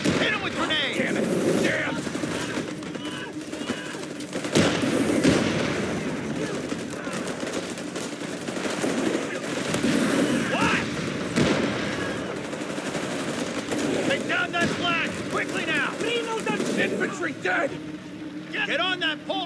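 Battle in Company of Heroes 3's Italy campaign: dense machine-gun bursts, gunshots and heavy booming fire rumble continuously at fairly loud level, with shouting soldiers' voices mixed throughout.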